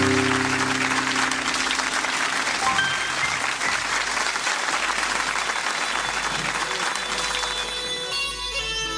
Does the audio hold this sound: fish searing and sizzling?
no